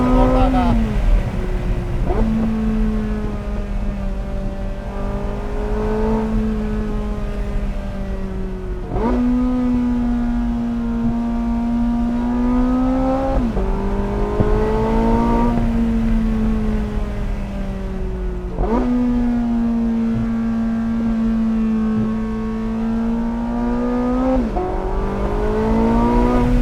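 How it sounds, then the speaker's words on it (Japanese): A Porsche 918 Spyder's V8 pulls hard under full acceleration, loud and close, its engine note climbing repeatedly and dropping back at each gear change over a steady road roar. "それにしてもこの V8 サウンドたまんないですよね。"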